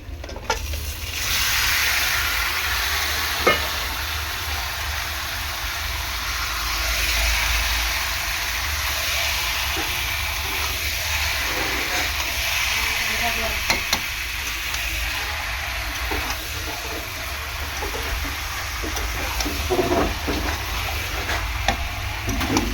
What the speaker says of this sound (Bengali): ম্যারিনেট করা চিকেনটা এখন দিয়ে দেবো।